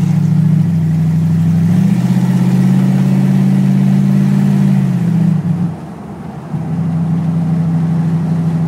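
An old car's engine putters along off the throttle while driving down a street, a low steady drone that shifts pitch slightly, briefly dips and then resumes its even mid-range hum.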